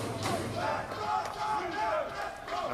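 Basketball fans in the crowd at a National Basketball League game between VU Crocs and Sommet BC roar and cheer loudly in a sustained wash, with an announcer talking over them.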